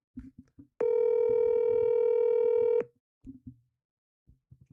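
A phone call goes out: a single long steady electronic tone sounds for about two seconds, loud and close, with brief speech before and after it.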